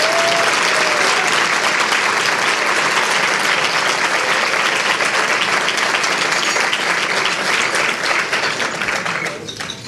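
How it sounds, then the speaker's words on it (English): Students at a TCU scholarship dinner clap steadily for their donors, a dense, even wash of applause from a large room that holds strong and then thins slightly in the final second. "how about a round of applause only from the students"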